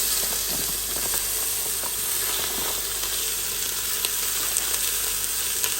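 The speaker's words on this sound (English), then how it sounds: "So, add in your beef." Beef sizzling with onions in an Instant Pot on sauté, a steady loud hiss of frying with small crackles throughout, no talking.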